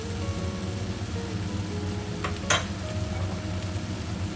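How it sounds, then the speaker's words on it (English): Tomato and egg sauce simmers in a pan with a steady, soft sizzle and bubbling; a single brief clink cuts in partway through. "Simmer until the sauce is thick."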